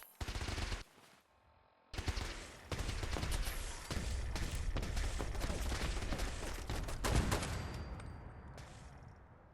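Gunfire in Fallout 4: a rapid burst of shots, then a short pause, then sustained automatic-style volleys that rattle on steadily at moderate loudness for several seconds.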